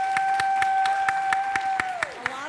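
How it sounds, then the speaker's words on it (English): An audience at a keynote event claps in an evenly spaced, regular beat of distinct hand claps. A sustained pitched tone runs underneath and slides downward near the end. "Give them a nice round of applause."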